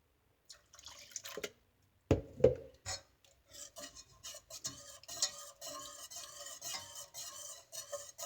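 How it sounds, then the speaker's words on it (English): Milk poured into a lumpy homemade cheese sauce for an allergy-free lasagne and stirred in a pan, giving soft scraping, rubbing stirs and light liquid drips in an irregular run after a brief pause. "so I'll start pouring some more milk in"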